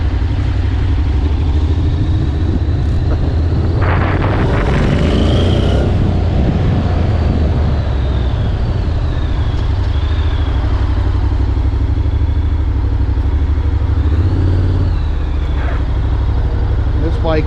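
A brand-new 2022 Honda NC750X motorcycle rides slowly across a parking lot on a test ride, its engine loud and close with a steady low drone and brief throttle rises.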